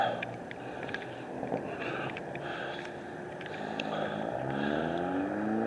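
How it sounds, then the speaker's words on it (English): Cars drive past near a construction site on a boulevard, a low engine drone and tire rumble rising and falling as vehicles pass at moderate distance, with faint outdoor clatter. "We'll wait for these cars to get through."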